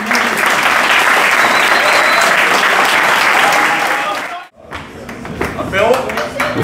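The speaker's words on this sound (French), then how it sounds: "Alors voilà, vous pouvez encore les applaudir." Sustained crowd applause at a confrérie ceremony in Lausanne, loud and steady clapping for about four seconds before cutting off, then lighter scattered claps and room chatter.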